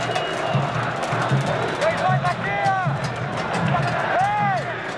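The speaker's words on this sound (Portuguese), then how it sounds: "E a torcida grita o nome dele." A football stadium crowd at a Vasco versus Coritiba cup final roars in a dense, continuous wash of voices, with whistles and shouts rising above the steady din and a commentator talking over it.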